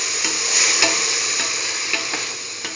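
Potato and mustard-marinated broccoli stirred in a hot pan, a steady sizzle of frying with scraping spatula strokes at intervals, close and alone without talk.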